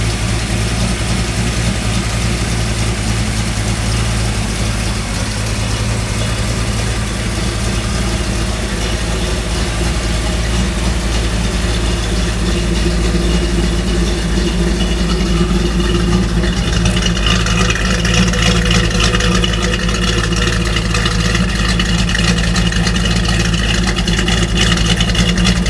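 A Dodge Challenger T/A 340 Six Pack tribute engine runs at a steady idle, a loud, continuous low rumble that grows slightly rougher and brighter partway through.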